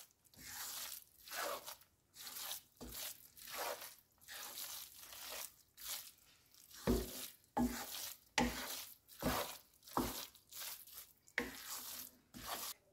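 Khoya being mixed into cooled grated carrot halwa for gajar ki barfi, heard as a long run of soft, wet stirring and scraping strokes in a steady rhythm, close up with no voices.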